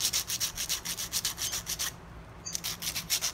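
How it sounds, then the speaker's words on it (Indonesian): Sandpaper is rubbed back and forth over the metal contacts of a damaged electrical contactor, a close, rhythmic scratchy rasp of about two strokes per second that pauses briefly before resuming. "digosok pakai amplas"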